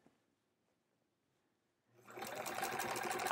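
After near silence, a sewing machine starts up and quilts The Splendid Sampler quilt, its rapid, loud mechanical clatter running steadily to the end.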